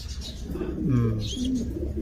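Homing pigeons, young white-topped and white-feathered birds, give soft low coos close by. The burbling calls rise and fall over a steady background hum.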